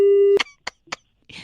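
A phone is hung up and a loud steady busy tone sounds, then cuts off, followed by a few short clicks and brief noise.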